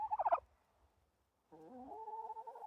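A farm flock of turkeys gobbles after a wind storm: a quick rattling gobble, a short pause, then a sustained, tonal gobbling call. The sound is fairly faint and close, with no talking.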